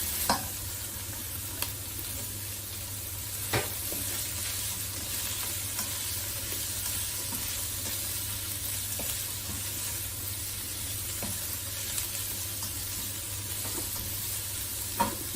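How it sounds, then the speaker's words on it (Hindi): Onions fry in a pan for veg rice with gravy, a steady close sizzle running throughout while a utensil stirs and taps the pan now and then, with no talking. "अब इसको भी ऐसे थोड़ा सा फ्राई करके तकरीबन 10-15 सेकंड के लिए फिर हम प्याज डाल देंगे"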